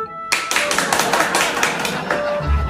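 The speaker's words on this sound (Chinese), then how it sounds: "掌声祝贺一下。" A family claps together at home in congratulation, a dense burst of hand claps starting abruptly and running steadily to the end, close and fairly loud.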